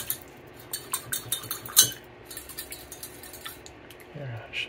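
Film developer being stirred into water in a container, heard as a run of light clinks and taps against the vessel, close and fairly quiet, with a brief louder knock midway and a short low voice near the end.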